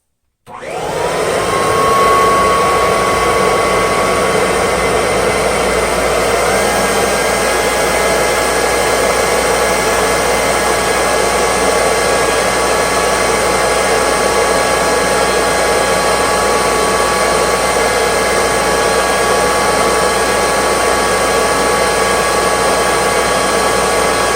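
A Kirby Dual Sanitronic 80 upright vacuum runs steadily at full power during an airflow box test, a loud, constant motor whine and rushing air that spins up at the start and holds unbroken throughout.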